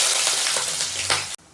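Onions fry in hot oil in a pan with a close, bright sizzle that lasts just over a second and then cuts off abruptly.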